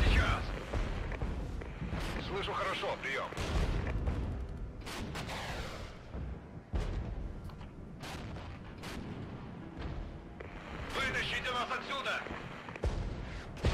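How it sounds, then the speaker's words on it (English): Mortar and artillery fire in the video game Regiments: repeated heavy booms and rolling blasts at irregular intervals, loud and close, with someone talking over the barrage. "Now, my mortars can also engage."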